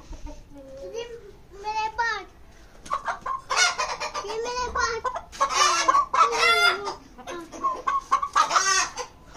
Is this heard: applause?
no